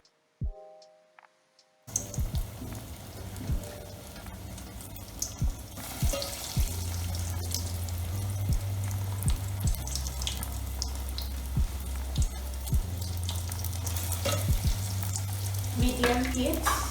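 Scotch eggs fry in hot oil in a pan over medium heat, a dense close sizzle that starts abruptly after a quiet moment and crackles continuously, with occasional clinks and a low hum underneath.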